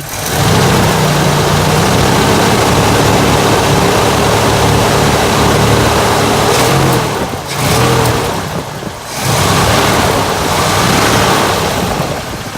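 A 1968 Cadillac DeVille Convertible engine roars loudly close by, revved in sustained bursts with two short dips between pulls, a dense rough rumble throughout and no talking.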